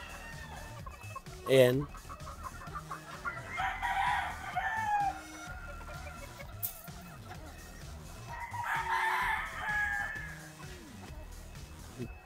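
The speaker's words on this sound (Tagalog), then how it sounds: "Ito yung ating mga Golden Boy pullets." Golden Boy gamefowl pullets cluck and crow at a game farm, with two drawn-out crows and scattered clucks under someone speaking between them.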